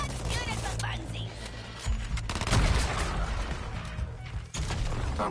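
Gunfire aimed at a cannon's weak spot in Suicide Squad: Kill The Justice League, heard as dense rapid shots and impacts amid game noise and music, with a character voice talking over parts of it.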